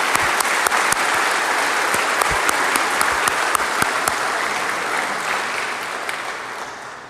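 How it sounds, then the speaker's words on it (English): Audience applause ringing out at a Peabody Fire Department firefighter swearing-in ceremony, a steady dense clatter of many hands holding for about seven seconds before gradually thinning at the end. "Please join me in a round of applause for our."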